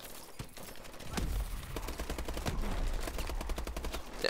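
Gunfire in the video game Call of Duty: Advanced Warfare, a rapid burst of automatic fire with a heavy low rumble beneath, dense and fairly loud with no speech.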